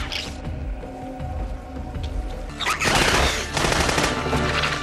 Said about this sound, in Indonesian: Memang Henry berhasil menembak satu cacing yang bersiap masuk ke dalam saluran air